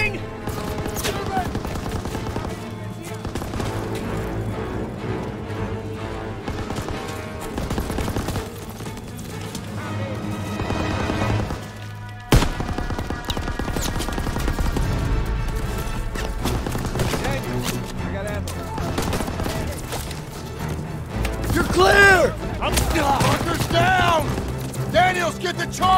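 Sustained machine gun fire in the World War II shooter Call of Duty WW2, dense and rapid bursts with booms, over music and shouted voices throughout.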